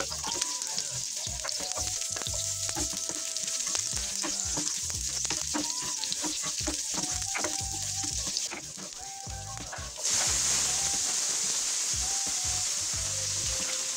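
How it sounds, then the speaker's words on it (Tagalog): Garlic, onion and tomato sautéed in a hot pan for Ilocano pakbet, a busy sizzle with frequent clinks and scrapes of stirring, briefly quieter before resuming louder near the end, with no speech. "painit naman tayo ng kawali at igisa lang natin yung ating bawang, sibuyas at kamatis."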